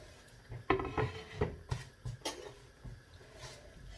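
Onions tipped into a pan in a home kitchen while making kedgeree: a close, fairly quiet run of light clattering knocks and taps against cookware, spaced irregularly over a few seconds.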